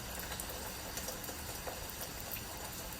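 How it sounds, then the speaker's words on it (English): Windy, cold rain in Charlotte, North Carolina, a faint steady hiss and patter of drops falling on surfaces with no voices. "Rain's picked up recently, but all not too bad so far."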